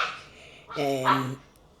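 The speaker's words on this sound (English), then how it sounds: "Sorry about the dogs, again." A single short dog bark with a strong harmonic tone, fairly close, standing out briefly against quiet background noise.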